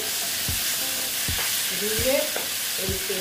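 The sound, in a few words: stir-frying fish masala with salt and turmeric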